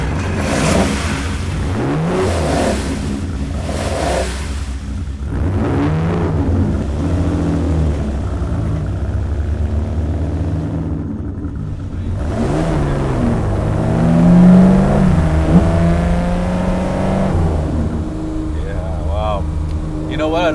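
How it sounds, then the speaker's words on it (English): A 1964 Ferrari 250 Lusso Competition engine revs steadily and loudly up close, its throaty note rising toward a stronger surge mid-clip, with people talking over it throughout. "this is a 1964 250 Lusso Competition, is that sound, that engine sound, right?"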